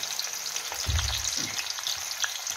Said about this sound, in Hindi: पहले डालेंगे प्याज।